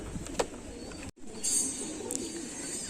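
Saharanpuri kaldom pigeons coo softly at close range, a few low murmuring calls broken by a brief dropout, with faint ambient noise and no speech.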